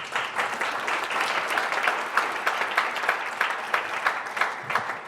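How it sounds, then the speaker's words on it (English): An audience claps together in a sustained round of applause that holds at an even, fairly loud level from start to finish, with no talk over it. "Big round of applause to all of you."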